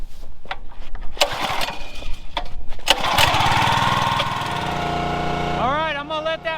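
A Champion 27 ton log splitter's small gas engine is pulled over a few times, catches and settles into a loud, steady close-up run with a rising rev near the end.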